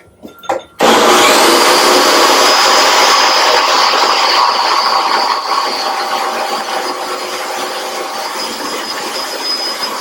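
A food processor blends sunflower seeds, starting abruptly after a couple of light clicks and running loud and continuous with a high whine, its pitch dropping slightly midway as the seeds break down.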